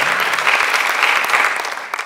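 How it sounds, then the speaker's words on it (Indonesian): A church congregation at a Sunday worship service bursts into loud, close applause, many hands clapping densely for about two seconds before tapering off, with a few separate claps near the end. "Beri tepuk tangan bagi Tuhan."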